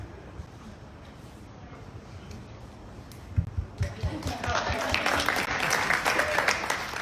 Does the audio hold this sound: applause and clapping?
yes